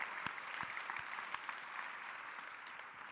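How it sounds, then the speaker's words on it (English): A crowd at a leadership summit bursts into sustained applause, dense clapping with a few sharper individual claps standing out near the front. "Give yourselves a round of applause."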